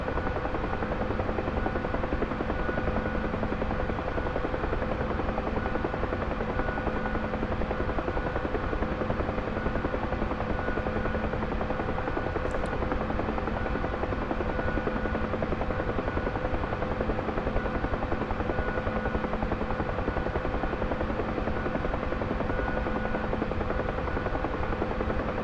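A Bell UH-1 Huey helicopter in the DCS flight simulator drones with steady rotor thump and engine whine from the cockpit, loud and unbroken throughout.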